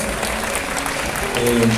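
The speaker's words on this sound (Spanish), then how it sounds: "un aplauso para todas las maestras y los maestros." A crowd at a university book fair in Mexico claps steadily throughout for teachers, a dense wash of applause, with a faint voice or tone rising near the end.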